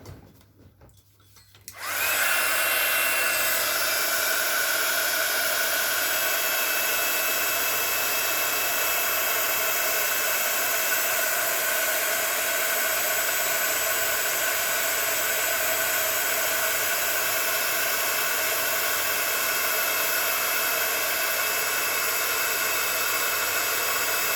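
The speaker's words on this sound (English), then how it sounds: "And I'll get my heat gun." A heat gun blowing steadily for craft embossing starts after a brief quiet moment, then holds a loud, even, breathy whoosh like a hair dryer at close range, unbroken to the end.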